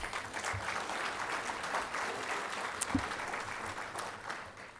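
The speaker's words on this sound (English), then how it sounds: "Yes, round of applause," A graduation audience applauds at a college ceremony with steady, moderately distant clapping that fills the hall without break, with a few sharper individual claps standing out.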